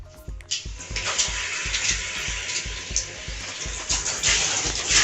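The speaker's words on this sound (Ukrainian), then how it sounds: "Душ холодний є." Cold water gushes steadily from a bathroom shower, a loud continuous hiss and splash with brief irregular spatters throughout.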